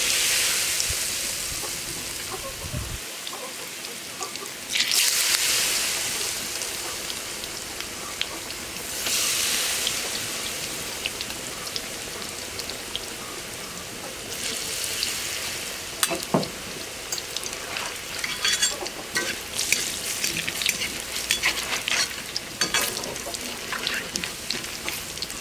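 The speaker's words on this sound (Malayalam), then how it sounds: "ഇനി ഒരു പ്രാവശ്യം കൂടി നമുക്ക് മാവിൽ മുക്കി പൊരിക്കണം" Batter-coated ammayi kuntham, a Kerala fried snack given a second coating, bubbles in hot oil with a continuous loud sizzle, swelling in bursts as pieces go in and settling into steady crackling close by, with no talking.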